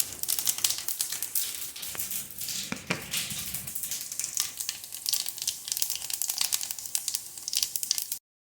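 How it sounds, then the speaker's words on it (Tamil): Fennel seeds crackle and sizzle in hot oil on a tawa, a bright close spitting hiss with small pops and a few clinks of the pan. "எண்ணெய் சூடாகிடுச்சி தவாவில் இப்போ நான் சோம்பு ஆட் பண்ணிக்கிறேன்"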